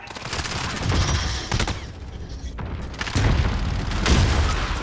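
Cluster strike explosions in Modern Warfare on the Shipment map, a rapid barrage of booming blasts and crackling gunfire in bursts, loud and close, with no one talking.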